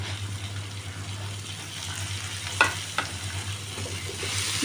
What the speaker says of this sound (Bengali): এবার পেঁয়াজটা একটু ভাজা ভাজা হলে টমেটোটা দিয়ে দিলাম।